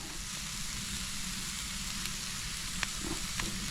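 Red snapper fillets sizzle on a Blackstone flat-top griddle as they are blackened, a steady close crackling hiss that runs throughout, with a few small pops and scrapes near the end.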